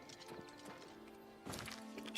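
Horse hooves clip-clop steadily in the video game Oblivion Remastered, moderately close, with a brief louder burst of hoofbeats near the end and no talk over it.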